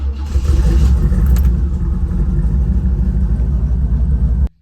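C4 Corvette on a test drive after a coolant temp sensor fix, its engine giving a loud, steady, close rumble throughout before cutting off abruptly at the end.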